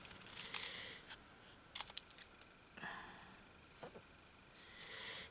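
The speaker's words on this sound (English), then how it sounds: "I'll just cut it a bit off the bottom" Scissors snip through fabric while trimming a bit off the bottom of a fabric-covered tile, in a few short, crisp cuts spaced out over a quiet room.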